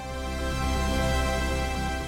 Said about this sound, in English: it sounds like typical synthesizer